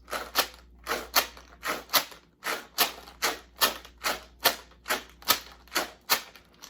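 A bean-filled shaker is shaken in a steady rhythm, each stroke a sharp, gritty rattle, louder and harsher than a soft swish.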